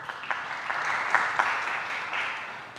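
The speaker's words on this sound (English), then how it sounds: "Let's give you a round of applause." Church congregation clapping during an all-age Harvest Sunday service, a steady patter of applause that holds for about three seconds at moderate volume with no talking over it.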